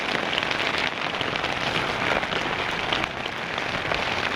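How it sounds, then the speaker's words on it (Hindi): Heavy rain pours at Kedarnath in the Himalayas, a dense, steady hiss of drops hitting surfaces that stays loud and continuous throughout, with no voices heard. "बारिश ही बारिश हो रही है।"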